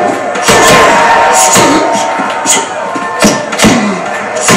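Boxing arena crowd in the Prizefighter video game, a loud continuous roar with bursts of cheering and sharp thumps of punches landing throughout.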